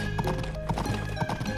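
A horse's hooves clip-clop at a steady walking rhythm in the video game Story of Seasons: Pioneers of Olive Town, close and clear over a constant background of game music.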